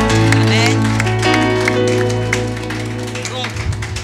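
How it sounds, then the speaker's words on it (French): A church audience applauds for their pastor, a burst of clapping that swells under sustained organ or keyboard tones and talk, then thins out. "Est-ce que vous pouvez applaudir pour votre pasteur?"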